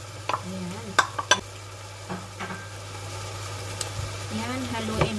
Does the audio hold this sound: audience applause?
no